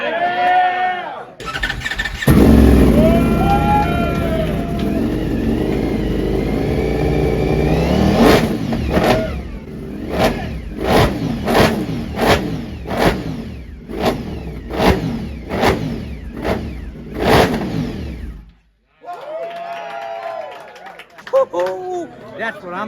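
A 2025 Ducati Panigale V4S with Akrapovic exhaust idles, then revs hard in a series of sharp, rhythmic bursts, with people talking before and after.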